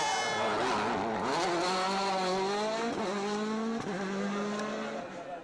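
A 2011 WRC rally car driven by Sébastien Ogier on a stage of Rally Spain screams through rising and falling gear changes, loud and close, with sharp shifts and a faint squeal of tyres.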